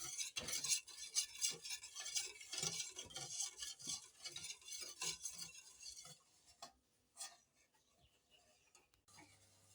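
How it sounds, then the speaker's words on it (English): A whisk beats eggs and milk in a bowl, a quick run of rhythmic clinking strokes for several seconds, then a few scattered taps before it stops. "Add milk to the eggs. Whisk, whisk."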